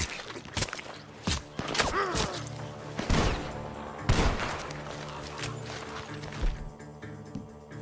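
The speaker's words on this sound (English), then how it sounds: "Gunshots are coming from that barn!" Several sharp gunshots crack irregularly from a barn against a busy Red Dead Redemption 2 game soundscape with thumps and movement, loud and close.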